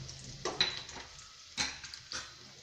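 Onion pieces sautéing in hot oil with mustard seeds and cumin, faint frying sizzle broken by a few scraping stirs of a utensil against the pan, close and quiet with no talking.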